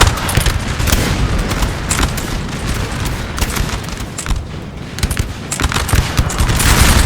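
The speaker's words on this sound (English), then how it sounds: "The Russian guns probably are having a field day shooting these Italians" Artillery fires in a Napoleon: Total War multiplayer battle at Borodino: dense, rolling cannon volleys and booms crackle almost without pause in a loud, continuous battle din.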